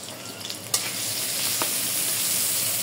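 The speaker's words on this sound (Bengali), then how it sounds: "তেল গরম হয়ে গেছে, পেঁয়াজ দিয়ে দিলাম 1 কাপের মতো।" About a cup of onions fries in hot oil with a steady, close sizzle that builds slightly, broken by a couple of sharp utensil clicks.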